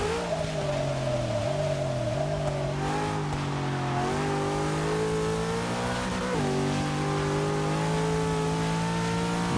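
A 2002 Nissan GTR in the Forza 6 racing game accelerates hard, its engine droning loud and steady and climbing through the revs with brief dips at gear shifts, with no talk over it.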